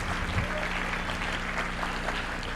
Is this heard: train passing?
no